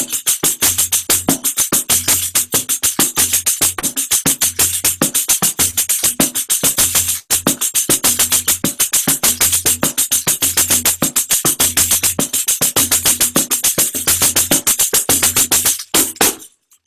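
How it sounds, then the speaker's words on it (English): Pandeiro frame drum plays a brisk samba rhythm, steady and close, with regular bass thumps under rapid crisp jingle hits, repeating without pause until an abrupt stop near the end. "So pandeiro, it's called."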